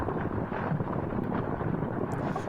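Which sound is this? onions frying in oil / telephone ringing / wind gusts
wind gusts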